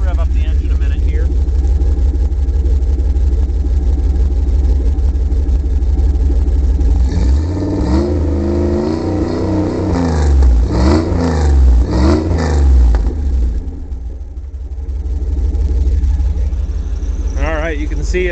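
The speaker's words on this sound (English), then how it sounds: "I'll rev up the engine a minute here." A car engine with new plugs idles with a low, steady burble, then revs up several times in rising and falling sweeps before settling back to idle.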